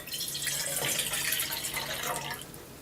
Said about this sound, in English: we're going to use this to water